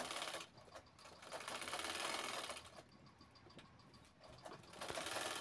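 A sewing machine stitches belts onto a ladies' handbag. Quiet, close bursts of rapid stitching start and stop with brief pauses between runs.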